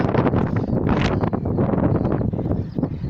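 Steady, loud wind buffets the microphone throughout at Blériot beach near Calais, a rough, gusty roar with no clear voices.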